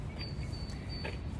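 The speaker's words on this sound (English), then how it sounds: "Do you hear the birds chirping?" Faint birds chirp outdoors on a bright day, with a few thin, high calls over a steady low background rumble and no talking.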